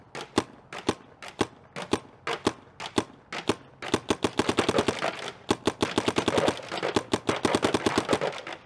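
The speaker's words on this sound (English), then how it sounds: "Here, shoot the Ultra Silk on the right." A paintball marker fitted with an Ultra Silk barrel fires outdoors, first as single sharp pops spaced apart, then as rapid bursts of quick cracks in fast succession.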